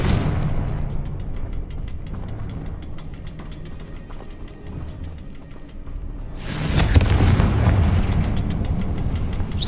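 A fiery blast spell in Hogwarts Legacy goes off as a loud, booming explosion with a rumbling tail, set against steady game ambience and low rumble beforehand.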